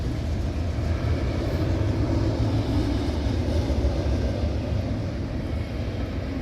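A Norfolk Southern train rumbles past near a rail bridge in Elyria, Ohio, a steady low, heavy roar of wheels and engine holding constant throughout with no talk.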